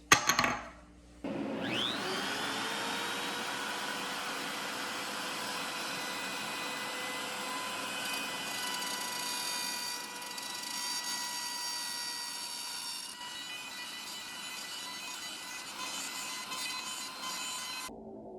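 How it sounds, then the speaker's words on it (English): A wood router with a 1/8 inch bit cuts wood while an air filter runs, a loud steady high-pitched whine that spins up after a brief start and holds continuously, with no talking. "I'm using a 1/8 inch diameter router bit."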